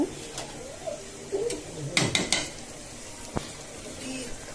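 Spice paste is stir-fried in a pan for a home biryani, with soft sizzling under clattering spoon and pot knocks and a few sharp metallic scrapes, plus faint background voices.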